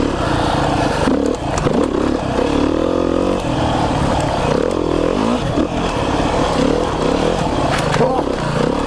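A dirt motorcycle on the Midhurst trail ride runs loud and close, its engine note rising and falling with revs and gear changes over a continuous rough drone and some clatter from the trail.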